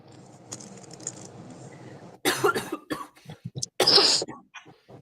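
Several harsh coughs burst out close by after a stretch of low background murmur, with short gasping pauses between the fits.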